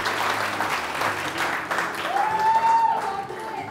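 A studio audience on a Pakistani TV morning show breaks into applause, a dense, fairly loud clatter of hands that carries on for several seconds while a voice briefly rises over it.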